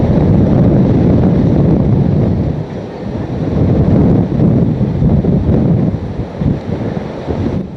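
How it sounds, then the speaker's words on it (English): Hurricane Katrina's winds roar through New Orleans in a steady, loud, broadband rush that buffets the microphone, with no voices and only brief dips in force. "the winds were catastrophic"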